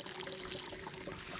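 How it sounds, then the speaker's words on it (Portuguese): Water pours and trickles into a Totomix sprayer tank in an olive grove, a faint steady stream under a thin tonal hum. "está a entrar água lá para dentro"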